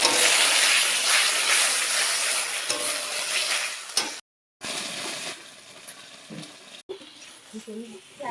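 Pierced whole eggs frying in hot oil in a pan give a loud, continuous close sizzle and spatter, briefly cut off, then quieter frying with some faint stirring noises.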